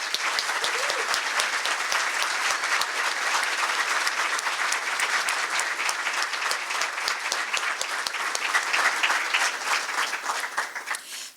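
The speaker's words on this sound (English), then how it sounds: "let's please give a warm celebration and applause for Commissioner Brentano." Audience at a county government State of the County event breaks into sustained, dense applause that stays steady and loud throughout with no talking over it.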